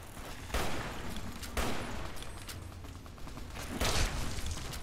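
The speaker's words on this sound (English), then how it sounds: "let me use my hunting rifle" Hunting rifle fired in Fallout New Vegas: three heavy broadband shots spaced about 1.5 seconds apart, each with a short rumbling tail, over a steady background of game noise and no talk.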